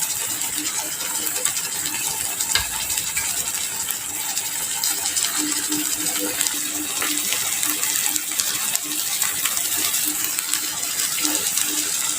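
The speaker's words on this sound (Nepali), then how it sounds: "थोरै थोरै पानी राख्दै बनाएको छु" Water runs steadily into a cooking pan of Nepali egg and potato curry, a continuous close gushing and trickling that lasts throughout.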